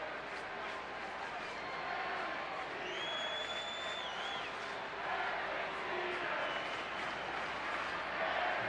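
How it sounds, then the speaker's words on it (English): Sellout stadium crowd at Camden Yards chanting for Derek Jeter during a Yankees–Orioles game, a steady broad roar of many voices with rhythmic swells rising toward the end, heard at a distance without a clear announcer over it. "Derek Jeter chant rising up here in the sellout crowd at Camden Yards"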